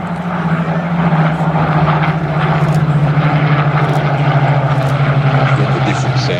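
A WWII propeller fighter, a Hurricane or Spitfire, flying at a RAAF airshow at Edinburgh air base in South Australia, gives a steady loud engine drone that holds throughout with little change in level.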